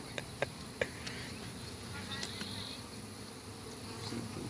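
Bees from a wild colony buzz around a styrofoam cooler used as a beehive, a faint steady outdoor hum with a few sharp clicks early on.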